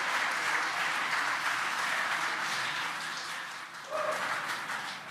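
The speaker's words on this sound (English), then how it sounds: "You can hear the applause behind us." Sustained, fairly distant applause from a crowd after a Falcon 9 booster landing during the Crew-4 launch, steady for several seconds with a faint tone over it near the end.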